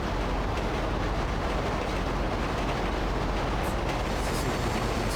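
A train rolls along in the GTA Online video game, a dense continuous rumble with faint rhythmic clatter, steady and loud throughout with no talk.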